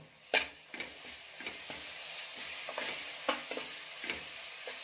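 Masala with ginger garlic paste sautéing in a pan for Kolhapuri mutton curry, a steady sizzle broken by repeated scraping stirs, close and moderately loud, with no talking.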